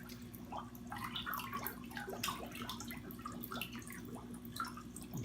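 Shaken liquid pours into a saltwater quarantine tank, giving a faint, steady trickle with small splashes and drips throughout, close by and without talk.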